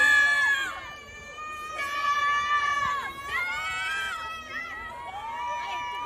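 Fans cheer together in a coordinated chant for SB19's Stell at an Atom Boyz 2 event in Taiwan: high, excited voices rise and fall in bursts, loud and close, with shrieks over a crowd murmur.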